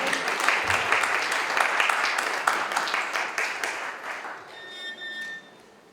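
A congregation at a church service claps for pastors coming up to the stage, a broad sustained applause that tapers off near the end as a faint tone lingers.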